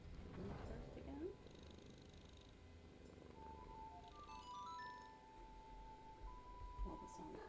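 Close, soft purring from a contented house cat runs steadily under light background music and a few clinks and rustles.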